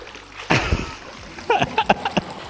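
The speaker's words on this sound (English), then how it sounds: "The flush is massive." A large, powerful toilet flush from a homemade woodworking-project toilet, heard as a loud rushing surge of water, then a burst of splashing and gurgling pulses, close by.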